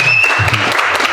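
A short burst of dense clapping from a crowd, steady and fairly loud throughout, with faint voices mixed in.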